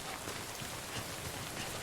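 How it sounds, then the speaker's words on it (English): Rain in the game Death Stranding, a faint, steady wash of dense rainfall with no distinct drops, continuous and even throughout the short stretch. "let's see about getting some more cargo before we can find shelter from this rain"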